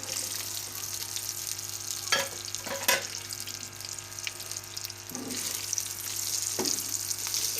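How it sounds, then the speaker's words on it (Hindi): Okra frying in hot ghee in a pan, a constant close sizzle broken by a few stirring scrapes and knocks, swelling louder toward the end. "अब हम इसमें भिंडी डाल लेंगे।"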